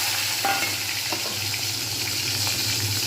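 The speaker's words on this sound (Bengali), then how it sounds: "ততক্ষণ পর্যন্ত না লাল হবে ততক্ষণ পর্যন্ত আমি সেগুলো ভাজতেই থাকবো" Onions and tomatoes fry in a pan, a continuous close sizzle with soft crackles and light stirring scrapes, no one talking.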